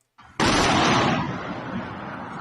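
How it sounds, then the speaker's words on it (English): A sudden loud blast from the Ukraine war erupts and rolls into a long, rumbling roar that slowly fades but keeps going, with no voices. "See the explosion right over there."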